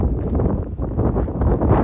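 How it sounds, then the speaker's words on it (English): Strong gusts of wind buffet the microphone on a steep mountain ridge of Cadair Idris, a steady low roar with rushing swells and no talking. "it's very windy"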